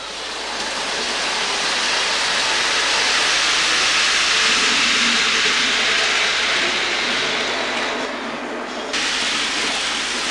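A model steam train runs on a layout track under construction, giving a loud, close, steady hiss with a brief dip and shift near the end, and no talking.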